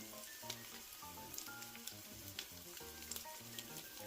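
Steady, close sizzling of spoonfuls of pumpkin potato pancake batter with a curd filling frying in a hot pan, with crackling pops throughout and no talking.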